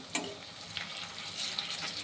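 Papaya kofta frying in a pan of oil, a steady soft sizzle with a sharp crackle near the start and small pops scattered throughout, close and fairly quiet, no voices.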